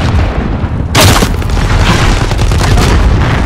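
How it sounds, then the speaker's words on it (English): Call of Duty Modern Warfare missile launch explosion: a sudden loud boom bursts after a brief low rumble, then a long roaring blast and crackling debris that stays heavy to the end. "Missile, go for launch."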